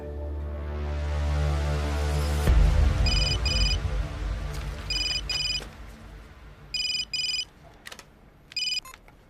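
A telephone rings in repeated electronic double bursts, four rounds spaced a couple of seconds apart, after a loud low rumble and thud at the start.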